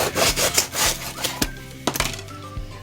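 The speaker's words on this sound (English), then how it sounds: "So we're just going to keep on cutting these." A knife saws through thick eggplant slices on a cutting board, a series of close rasping strokes and soft thuds coming in irregular bursts with no talking.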